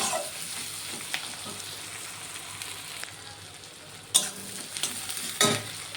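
Onions frying and browning in a pan with green chillies and salt while cooking Bengali hilsa fish, a steady close sizzle with occasional sharper clinks and scrapes of a spatula stirring, no talking.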